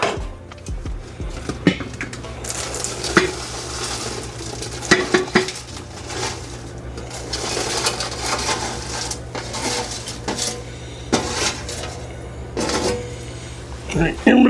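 A spoon stirs okra and crumbled bacon in a pan, with scraping clinks and soft sizzling under steady talk, and a few sharp metallic knocks against the pan.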